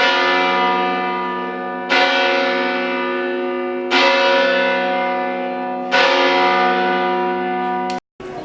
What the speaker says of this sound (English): We made it to the top, and the bells are ringing.